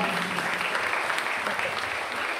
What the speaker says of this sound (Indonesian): Ya, kita beri tepuk tangan ya.